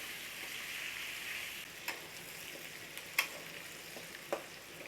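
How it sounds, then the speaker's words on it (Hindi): Chopped onion and garlic frying in oil in a pan for a chicken roast, a steady bright sizzle with a few sharp clicks of stirring, close and moderately quiet, no voices. "अभी मैं प्याज और लहसुन को मैं 5 मिनट्स फ्राई कर लेंगे"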